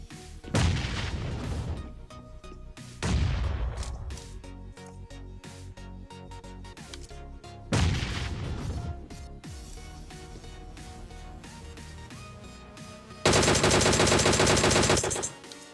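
Gunfire rings out in the video game PUBG: several loud, close bursts of rapid shots with ringing tails, spaced a few seconds apart, ending in a sustained dense burst of automatic fire.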